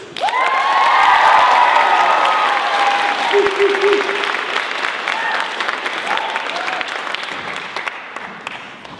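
Loud audience applause with cheering and whoops for the outgoing and incoming stage presidents at a closing-night event, swelling early and tapering off over several seconds.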